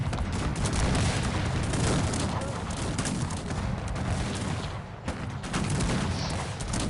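A large cannon and musket battle in the strategy game Cossacks 3, with dense continuous volleys of gunfire and booming artillery, loud and crackling throughout, with no talk.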